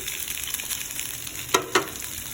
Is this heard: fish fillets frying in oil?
yes